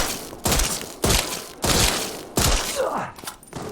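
Jill's CQBR assault rifle fires in the video game Resident Evil Re:Verse, with several loud, heavy bursts spaced about half a second apart, each a broad crack that rings out and decays between shots.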